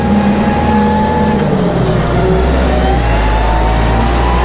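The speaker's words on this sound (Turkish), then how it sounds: "O küçücük turbaya göre öyle bir güzel ses çıkıyor ki." Loud, steady engine drone of a turbocharged Kubota tractor climbing uphill in fourth gear, with a sustained deep rumble, a faint whine and slight shifts in pitch, heard from on board with no talk.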